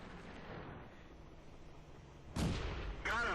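A tank gun fires in World of Tanks, a sharp loud blast with a rumbling tail after a quiet stretch of low ambient engine hum, followed by a second burst near the end.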